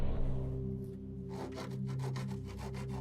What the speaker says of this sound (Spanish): Parece que lijaron esta pieza para eliminar una fisura por fatiga